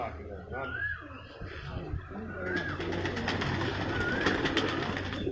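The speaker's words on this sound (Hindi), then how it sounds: "उनके पास उनके घर के दिए हुए कबूतर भी मौजूद हैं" Pigeons coo softly in a rolling, throaty rhythm nearby, mixed with ambient outdoor noise, while people talk over them.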